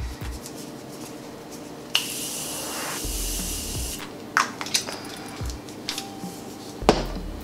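Two long hissing bursts of Morphe makeup setting spray, each about two seconds, followed by a few soft clicks and taps close by.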